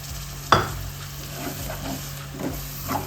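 Blended tomato poured into a hot pan for a curry, a soft sizzle under a sharp initial splash and intermittent stirring scrapes, with a steady low hum in the background; no voices.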